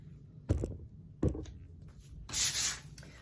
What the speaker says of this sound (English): Larger areas, I use a larger sanding pad.